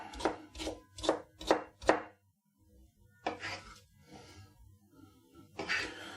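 A knife chops vegetables on a board: five quick, evenly spaced chops close by, a short pause, then a few more scattered cuts.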